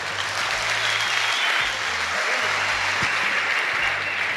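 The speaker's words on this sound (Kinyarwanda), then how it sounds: "Amashyi menshi cyane kuri Muhinde." Applause from a comedy show audience, a dense, loud clapping that holds steady with no pause from start to finish, with a faint murmur of the crowd beneath it.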